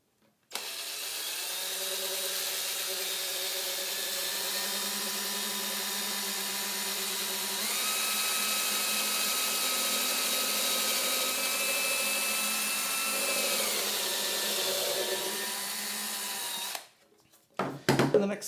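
Power drill boring strap button holes into a ukulele's wooden neck, a steady high whine running about sixteen seconds with a slight pitch rise midway, then cutting off abruptly with a few handling clunks.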